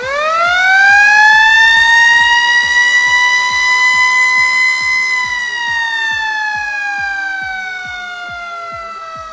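Fire engine 711 responding to a call sounds a loud rising wail that holds and then slowly falls, a close mechanical siren sweep steady and dominant throughout.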